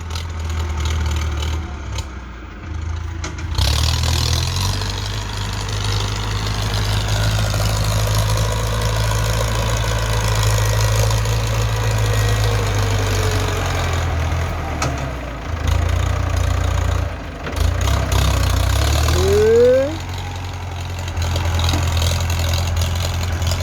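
Ford farm tractor engine running steadily while pushing soil to build up a paddy field dike, a loud heavy low drone that dips and revs at times, close and continuous with no talk.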